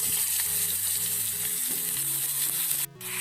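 Loud, steady sizzling of plantain and onion frying in hot oil, close up, with a brief stir or clatter near the end.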